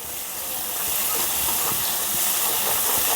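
Mustard spice paste with a spoonful of sugar, for a pabda fish dish, is sautéed in a pan. It gives a loud, continuous sizzling hiss that swells slightly and holds steady.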